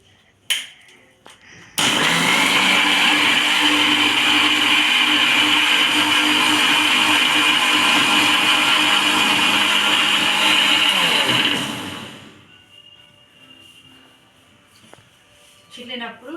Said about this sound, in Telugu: మిక్సీ జాడి మిక్స్ చేసుకోవడమే.